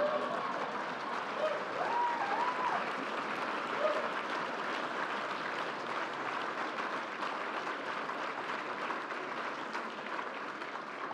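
An audience at the 2014 Thomas Nast Award ceremony for cartoonists applauds in a hall, a steady, moderately distant wash of clapping that holds evenly throughout, with faint voices mixed in.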